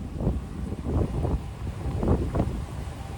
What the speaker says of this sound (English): Windy as hell, y'all.